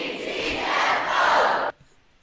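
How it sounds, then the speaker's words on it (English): A family crowd of the Coppola family cheers and yells together from a played recording, a loud, sustained whooping roar for under two seconds that cuts off abruptly into near silence. "That's actually the entire Coppola family cheering that video."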